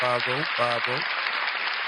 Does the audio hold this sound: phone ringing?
no